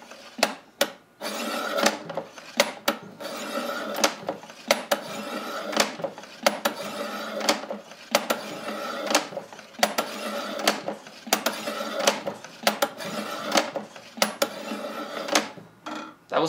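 A kitchen knife drawn repeatedly through a sharpener makes a harsh metallic grinding rasp in rapid, regular strokes, loud and close, with no voices.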